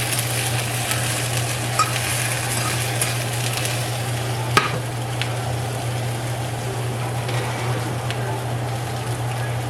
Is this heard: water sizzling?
yes